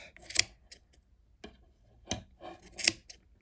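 Scissors snip through yarn while a pom pom is trimmed for a wall-hanging decoration, giving several separate close, crisp cuts with quiet pauses between them.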